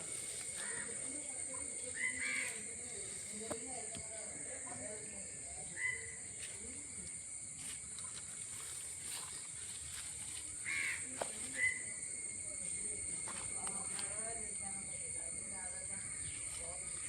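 Birds calling around a custard apple tree at harvest, with scattered faint caws from crows at intervals over a steady high insect hum, distant and quiet.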